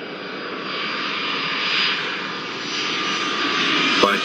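Airplane taking off in the Airport Madness 4 video game, a steady synthesized jet engine roar that swells slightly and holds, ending with a short click.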